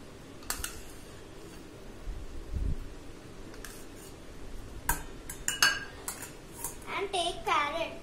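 Kitchen clatter of a bowl and utensils while preparing a potato filling, with scattered clinks, taps and scrapes close by, and some sharper knocks toward the end.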